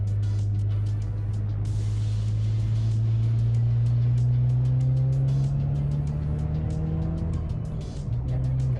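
A Ford Focus RS with an Accessport tune pulls at full throttle near full boost, its engine note rising steadily in pitch through one long gear, loud and sustained from inside the car, with no talking over it.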